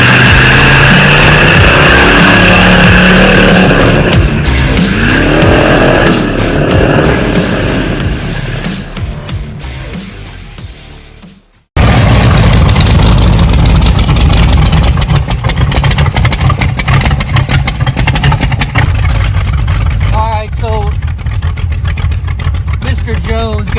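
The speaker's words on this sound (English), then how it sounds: "We're gonna get in the 26 Roadster, come with me, and let's take a ride" A 1926 Roadster's engine runs steadily while driving, loud and close with a continuous rumble; partway through it cuts out briefly, then returns with rougher road and wind noise under occasional voices.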